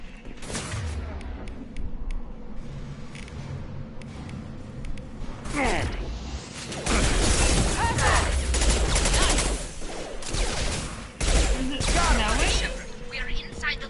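Shotgun blasts and mixed gunfire ring out during a firefight in the video game Mass Effect 2, loud and dense with repeated booming shots, while voices talk over the action.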